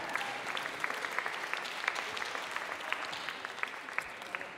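Concert audience in Oslo applauds at a show, steady, moderately distant clapping with individual sharp claps standing out from the crowd's wash.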